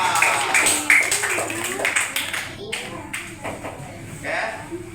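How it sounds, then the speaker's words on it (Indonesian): Students in a classroom clap for group 2 in a short burst of scattered, close applause, mixed with overlapping voices. "tepuk tangan buat kelompok 2"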